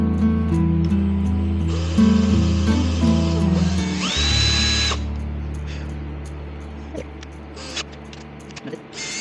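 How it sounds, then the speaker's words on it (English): A power drill whines loudly and steadily nearby, drilling holes in a homemade fishing lure, its pitch shifting as it bites in, then winding down with a few light clicks. "Drill some holes for these weights."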